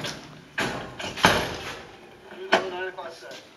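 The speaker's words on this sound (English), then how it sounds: "Get those doors closed." Vehicle doors slam shut, a few firm thuds spaced over a few seconds amid faint background talk.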